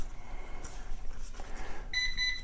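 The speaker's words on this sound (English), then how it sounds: "And there it goes, it beeped." Near the end, a BWINE F7 Mini GPS drone gives a series of short, bright electronic beeps during compass calibration, after a stretch of faint handling noise.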